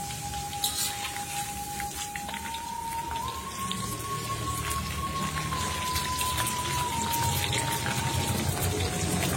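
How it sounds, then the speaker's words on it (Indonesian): Cassava chips frying in virgin coconut oil, a dense continuous hiss and crackle of bubbling oil, steady and close, with a faint tonal whine running beneath. "Goreng hingga kekuningan."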